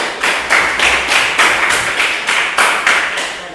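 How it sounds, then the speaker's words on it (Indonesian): Classroom applause for a student who answered a teacher's question, heard as a steady run of rhythmic group clapping, close and fairly loud, with no talking over it. "tepuk tangan untuk Nadine."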